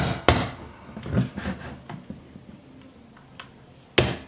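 A hammer taps a pin in a shotgun trigger group with two sharp, close knocks, one near the start and one near the end, with quieter handling sounds between them.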